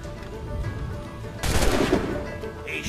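Gunfire in Assassin's Creed 4 Black Flag erupts as a loud, dense burst of shots midway, over a constant rumbling game background.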